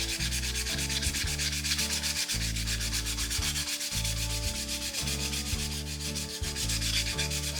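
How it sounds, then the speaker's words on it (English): Steady, continuous rubbing of 120-grit sandpaper against wood, close and loud, with a rhythmic back-and-forth scratch and a humming machine tone underneath. "Sanding with 120"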